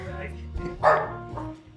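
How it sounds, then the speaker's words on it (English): Dogs bark in a short burst at mid distance, with one louder bark standing out, while people talk over them the whole time. "The dogs are barking at you."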